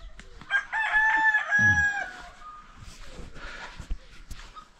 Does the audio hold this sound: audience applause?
no